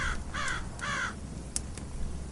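A raven caws several times in a harsh, repeated series, followed by a couple of sharp clicks, set as a sound effect in a dark, atmospheric audiobook reading of Poe's poem; no voice over it.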